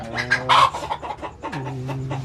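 Chickens cluck close by at a rural home, giving a handful of short, loud calls and one drawn-out squawk, with no talk over them.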